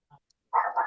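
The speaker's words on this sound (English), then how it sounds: "if you hear my dog in the background" A dog gives one quick bark in the background, moderately loud and close, after a faint brief yip in an otherwise quiet moment.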